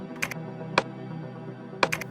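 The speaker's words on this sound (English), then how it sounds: "press the letter C on my keyboard to select the camera tools" A few quiet, isolated keypresses on a computer keyboard, sharp clicks spaced unevenly across a hushed room tone with no talking.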